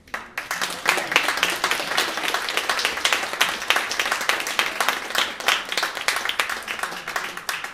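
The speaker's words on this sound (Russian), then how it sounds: "это стоит особых аплодисментов" A crowd applauds with dense, continuous clapping that holds steady for several seconds before tapering off.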